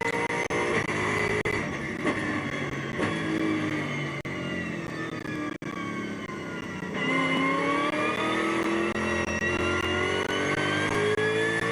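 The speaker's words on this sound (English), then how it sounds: "Just listening to this lovely V8 engine for a second." V8 engine of a GT4 race car lapping Spa during qualifying, a loud, close, continuous roar that climbs through the gears with rising harmonics, a brief dip mid-run, then pulls hard again.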